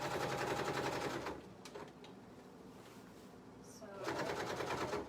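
A sewing machine stitches through thick petticoat fabric in steady rapid bursts, loud at the start and again near the end, with a quieter stretch of handling noise between the runs.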